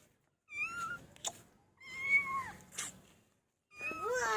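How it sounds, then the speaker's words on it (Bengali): A cat meows three times close by indoors, drawn-out whining cries with short pauses between them and no talk over them. "বিড়ালটা তোমার ঘরে চলে আসছে, একটা বিড়াল চলে এসছে"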